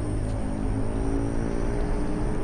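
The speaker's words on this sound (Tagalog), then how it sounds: "parang highway na kasi may naririnig akong mga sasakyan" Steady traffic noise from cars passing on a nearby highway, heard from a forest spring resort: a continuous low engine and tire rumble with a faint whir, constant in level and with no talk over it.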